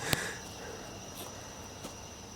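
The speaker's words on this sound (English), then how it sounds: "We may have just picked up a lot of like crickets." Crickets chirp at night in the wilderness, a thin high trill holding steady and fairly faint, broken by a sharp close click near the start and a soft knock later.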